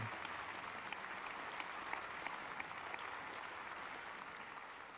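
An audience claps in a sustained, even round of applause that rolls on without pause, moderately distant and fairly soft.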